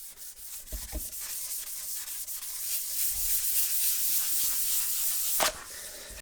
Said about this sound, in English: giving this a quick rub over with the 1000 grit